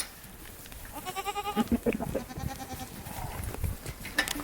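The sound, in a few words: goats bleating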